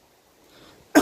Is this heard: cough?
yes